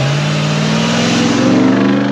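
Dodge Ram TRX truck engine, loud and close, with a steady droning rumble that rises slightly as it drives past.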